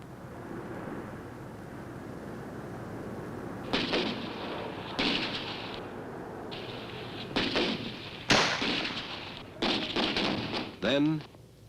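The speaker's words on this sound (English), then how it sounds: "advancing, finding, and firing at those targets before they disappear." Several sharp gunshots ring out on an open firing range as rifles engage pop-up targets, loud irregular reports spaced a second or more apart, over a steady background rumble and faint talk.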